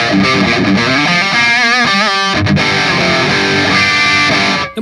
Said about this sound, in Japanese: ディーゼルだったり、マーシャルの900、あーめっちゃいい音。